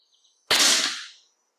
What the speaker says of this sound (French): Fait que ça va être les tirs carabines fixes.